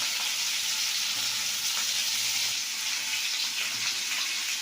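Potatoes sauté in a hot pan with a steady, even sizzle and crackle that stays constant and close, with no voices over it.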